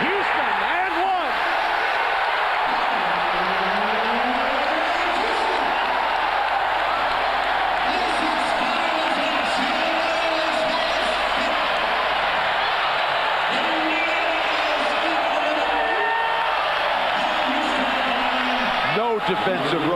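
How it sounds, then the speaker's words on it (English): A basketball arena crowd at Game 6 of the Knicks–Pacers Eastern Conference Finals roars in a loud, sustained wash of cheering, with a commentator talking over it throughout. "The crowd, unbelievable."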